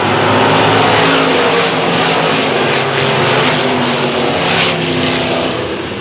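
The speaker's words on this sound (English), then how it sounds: "Green flag in the air, and we are racing." A field of race cars roars off together at a green-flag start on an oval track, a loud, dense wall of engine noise that stays steady and then eases slightly as the pack moves away.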